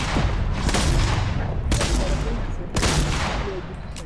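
Gunfire in the video game Fortnite Battle Royale: three loud bursts of rapid shots, each starting with a sharp crack and trailing off, spaced about a second apart, with no talk over them.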